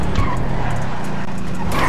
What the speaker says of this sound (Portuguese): Ah, esse carro tá deslizando